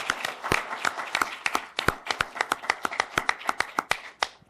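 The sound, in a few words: audience applause for the moderator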